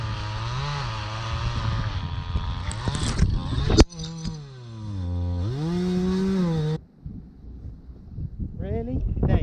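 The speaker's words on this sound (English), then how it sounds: "So I'm just going to go and pick up the chainsaw." Chainsaw engine running near a chimney job site, revving and bogging with rising and falling pitch as it cuts through overgrowth, loud and close for several seconds before cutting off, with wind noise on the mic.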